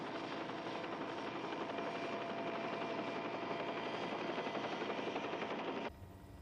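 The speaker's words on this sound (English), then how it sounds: "I'll have to move the copter clear." A helicopter hovers near a crater, its rotor and engine giving a continuous dense roar with a fast chopping pulse, loud and close throughout before dropping off abruptly near the end.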